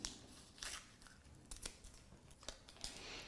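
Scissors snip open a pack of Sugru self-setting silicone rubber with several short, faint crisp cuts and crinkles of the packaging, close to the mic and with no voice over them.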